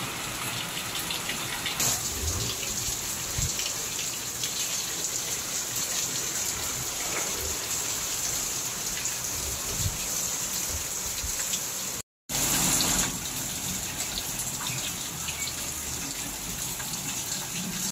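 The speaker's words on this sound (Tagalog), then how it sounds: "Ito, malakas ng buhos ng ulan dito sa may dingding." Heavy typhoon rain pours steadily against a house wall, a loud continuous gushing roar that barely changes and cuts out for a moment partway through.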